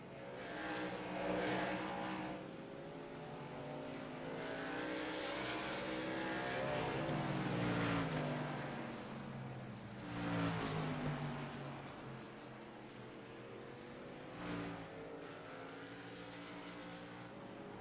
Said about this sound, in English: Navigating lap traffic, Craig Burns doing it masterfully.